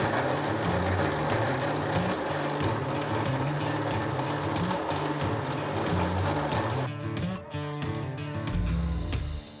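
A drill boring holes in a steel T3 turbo flange, a steady loud mechanical whir that continues for several seconds, then cuts out, leaving brief knocks and handling sounds.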